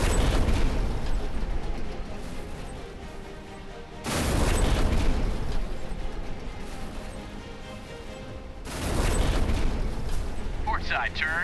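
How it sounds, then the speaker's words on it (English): Warship missile launches and cannon fire in the mobile naval combat game Warships Mobile, heavy booming blasts with long rushing roars, two big surges a few seconds apart under ongoing game voice commands. "Missile silo, fire. Cannon, ready to fire."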